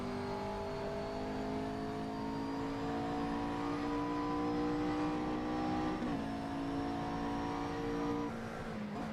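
McLaren MP4-12C GT3 race car engine in Assetto Corsa at the Spa circuit, a loud continuous high-pitched drone with layered harmonics that climb and dip slightly as the car accelerates, with no voices.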